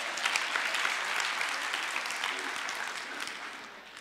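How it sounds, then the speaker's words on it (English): Audience applause at a church talk, dense clapping from a crowd that swells at once and slowly tapers over a few seconds, with no one speaking over it. "Give yourselves a round of applause."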